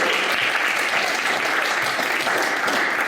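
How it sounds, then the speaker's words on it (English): A conference audience at the Oxford Synthetic Media Forum claps for a keynote speaker, a sustained, even wash of many hands at moderate loudness throughout, without speech. "Let's give a warm welcome and round of applause for our first keynote speaker."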